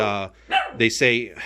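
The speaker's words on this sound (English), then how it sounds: "They're barking at a car or something outside." Dogs bark outside at a passing car: a few short, close, voiced barks in quick succession with a brief pause between them.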